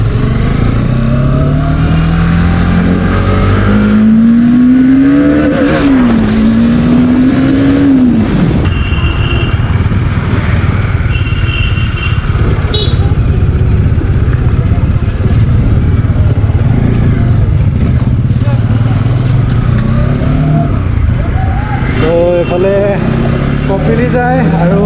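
Bajaj Dominar motorcycle on a group ride to Kopili, engine droning loud and steady throughout with rising and falling revs, a voice talking over it.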